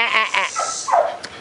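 An Australian Shepherd puppy lets out a quick run of high whimpers and yips, close and fairly loud, in short uneven bursts.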